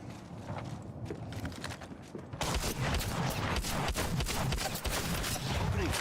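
Sustained automatic gunfire in Apex Legends, a rapid stream of loud shots that grows denser and louder partway through, with battle noise throughout.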